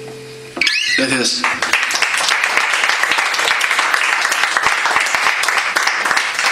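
An audience applauds at a live music final, dense sustained clapping starting abruptly after a brief sung note and holding steady and loud throughout.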